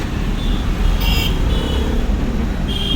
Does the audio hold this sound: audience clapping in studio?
no